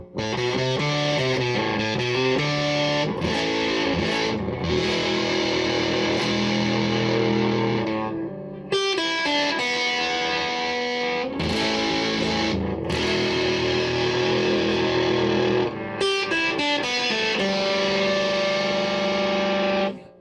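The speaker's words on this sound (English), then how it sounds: "gives this sort of like farting distortion sensation" An electric guitar plays chords and riffs through heavy, fuzzy distortion, thick and buzzing, with brief pauses between phrases.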